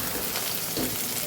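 Okra frying in oil in a kadai over medium gas, a dense, continuous sizzle and crackle at close range, loud and steady throughout.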